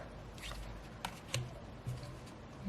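Soul Activation oracle cards being handled and flipped through, soft papery slides and a few light taps close by, quiet with no talk.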